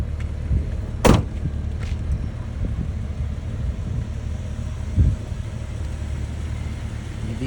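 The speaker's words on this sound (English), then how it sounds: "The vehicle is running." A 2004 Jeep Grand Cherokee 4x4 with a 4.0L engine idles with a steady, quiet low hum, broken by a couple of brief sharp clicks or knocks nearby.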